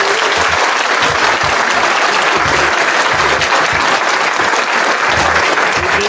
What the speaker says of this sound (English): let's give y'all a round of applause for this comment